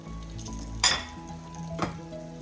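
Syrnyky, cottage cheese pancakes, frying in coconut oil in a pan: a quiet steady sizzle with two brief clinks or scrapes of a utensil against the pan.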